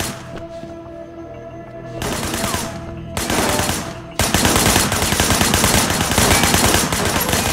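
Bursts of automatic gunfire from the video game Sleeping Dogs, rapid rattling volleys that start after a quieter stretch and grow into dense, continuous loud shooting through the second half.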